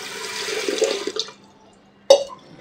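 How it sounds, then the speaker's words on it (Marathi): Wheat grains being rinsed by hand in water, heard as a steady close sloshing and swishing that fades out, then one sharp splash followed by a brief trickle. "तर आधी हे धुवायला लागतात गहू धुवून मग भिजत घालायला लागतात"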